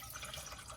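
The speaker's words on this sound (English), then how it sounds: "We're now going to add 4 cups of water to our pot." Tap water runs steadily into a cooking pot, a soft continuous splashing fill heard alone at low level, with no talking.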